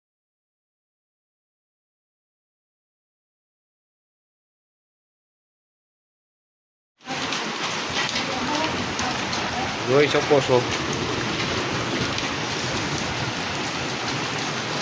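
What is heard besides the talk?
hail and rain falling in an unseasonal summer storm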